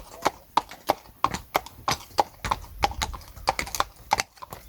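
Horse hooves clip-clop in a steady, evenly spaced rhythm on a hard surface outdoors on a Cumbrian evening, close and fairly loud, each strike sharp and distinct, with faint voices now and then.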